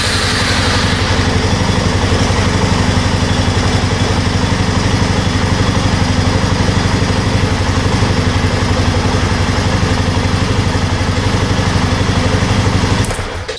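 An ATV engine, just started with choke, runs and idles loud and close in a steady, rapid chugging drone for over ten seconds before cutting out abruptly at the end, with no talk over it.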